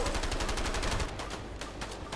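Rapid gunfire bursts in the co-op video game A Way Out during a firefight in Mexico, loud and continuous at first, then thinning into separate scattered shots with no talk.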